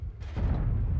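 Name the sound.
artillery fire in World of Tanks video game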